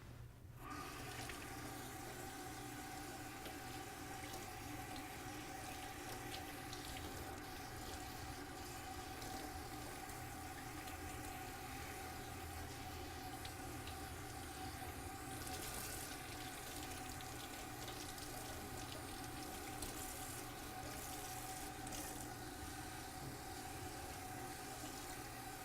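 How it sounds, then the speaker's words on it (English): Running tap water pours steadily over a human hair wig being rinsed at a sink, a continuous rushing hiss with a low hum underneath, unchanging for the whole stretch and with no talking. "I can rinse out the middle and the inside of the cap without damaging it"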